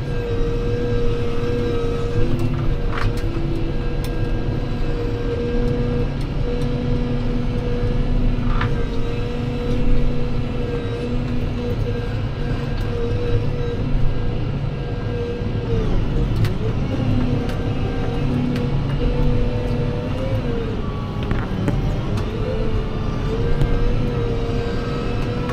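A Fendt tractor steered with the ErgoSteer system drives along, its diesel engine droning steadily with a constant tonal hum from the cab, occasional clicks and small shifts in pitch as the load changes.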